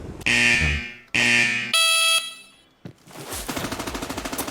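Bursts of loud, ringing automatic fire crack across a firing range in America's Army: Proving Grounds, two long volleys and a shrill tone, then a rapid rhythmic rattle of shots.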